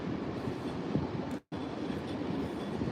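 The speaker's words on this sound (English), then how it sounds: "Here comes the Tokaido Shinkansen into Tokyo Station right now from Osaka." A Tokaido Shinkansen from Osaka rolls into Tokyo Station, a steady low rumble of rail noise with a broad wash of wheel and track sound, close and continuous apart from a brief break.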